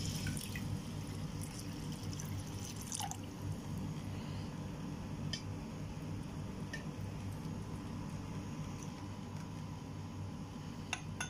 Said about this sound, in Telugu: 5 గ్లాసెస్ వచ్చేసి వాటర్ యాడ్ చేస్తున్నాను